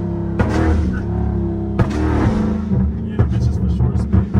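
Chrysler 300 Red Eye with a jailbreak setup and flame and burble exhaust tune, heard as a loud close engine roar with surging bursts and crackling under a voice talking.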